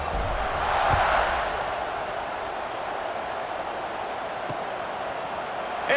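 A college football stadium crowd at Nebraska State, hosting Wisconsin State, roars steadily as the teams line up for a kickoff. The broad, sustained wash of noise swells slightly early on and then holds at an even level.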